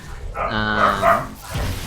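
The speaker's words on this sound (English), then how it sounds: "The dogs are going nuts again" Dogs barking in a room during a StarCraft-style amateur esports match cast, a couple of close bark-like yelps with a whine, brief and moderately loud, with faint voices underneath.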